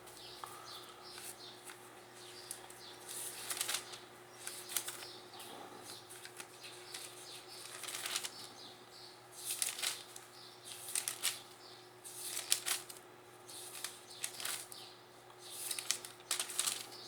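A deck of cards is shuffled again and again, soft riffling bursts repeating at an uneven pace over a faint steady hum, quiet and close with no speech.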